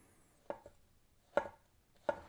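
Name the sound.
knife cutting vegetable thinly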